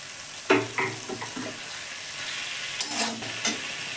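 Tender, freshly cut bottle gourd greens fry in a pan for a vegetarian dal, giving a moderate, steady sizzle with a few brief stirring scrapes early and again near the end.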